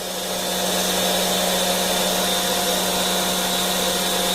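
An engraving machine cuts a brass blocking die with a steady, close, high whine and hum that holds constant throughout, with no voices.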